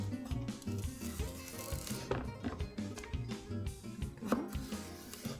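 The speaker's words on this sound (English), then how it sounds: "I'm going to slice them in half, and I'm going to chop them nicely" A knife chops celery stalks on a cutting board for a salad, making a steady run of quick, close taps against a background of music.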